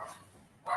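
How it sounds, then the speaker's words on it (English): A dog gives two short barks, faint and slightly distant, at the start and end of a brief pause during an online conference talk. "Sorry, my dog wants to join the meeting."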